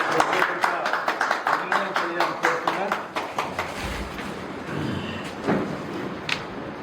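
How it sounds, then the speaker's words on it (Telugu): An audience at a public felicitation event claps in a quick, rhythmic patter that fades after a few seconds, with a voice talking over it. "వారికి ఒకసారి గట్టిగా చప్పట్లు కొట్టి"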